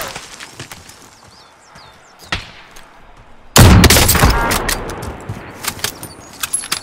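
Gunfire in Call of Duty: Modern Warfare, with a sudden loud burst of shots that cuts in midway after a quieter stretch and is followed by scattered sharp cracks and clatter.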